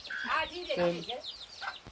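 A hen clucks in short bursts, mixed with a voice over a faint background of outdoor noise.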